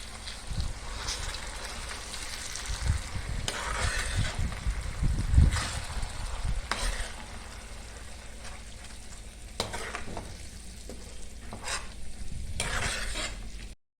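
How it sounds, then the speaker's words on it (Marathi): Tomato puree stirred and fried in a pan for a village-style chicken curry: a low, steady sizzle broken by repeated scraping strokes of a spoon against the pan, fairly close and alone. "टॅमॅटोची प्युरी पण परतत भाजत परतत असं त्याला पूर्ण भाजून घ्यायचं"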